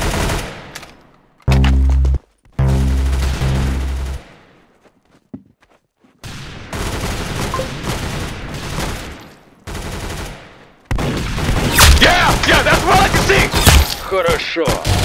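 Rapid gunfire bursts and machine-gun rattles from the Roblox shooter game Arsenal, loud and dense, growing more intense toward the end, with short pauses between volleys.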